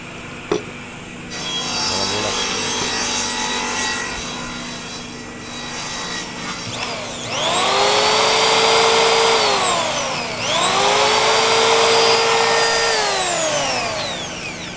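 A power planer whines up to speed twice, each pass rising to a loud, steady high-pitched roar before winding down, over a background motor hum.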